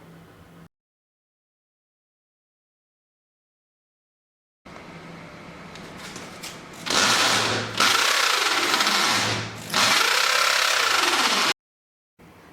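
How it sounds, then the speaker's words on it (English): After a stretch of silence, an electric drill whirs, rising in pitch as it bores 15 mm holes into a wall, pausing briefly and revving again before cutting off. "drill 4 holes for 15 millimeters where you just marked with an electric drill"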